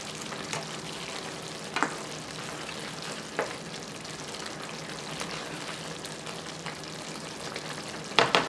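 Mexican rice fries and is stirred in a pan, a steady soft sizzle with occasional scraping clicks of the spoon, close and alone, with a louder scrape at the end.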